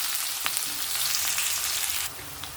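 Two large finely chopped onions sauté in hot oil with popped mustard seeds, giving a steady, close, fairly loud sizzle with a few small pops and no talking.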